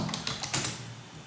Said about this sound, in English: Now you start typing this text.